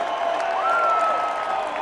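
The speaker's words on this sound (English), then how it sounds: "I have this sound effect that I downloaded called Baseball Crowd Game" A downloaded baseball crowd game sound effect plays as a steady wash of cheering and applause from a big stadium crowd, with a few whistles rising above the roar.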